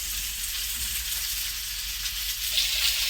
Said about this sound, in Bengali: ওদিকে কাজ চলছে, এদিকে চলছে মাছ ভাজা।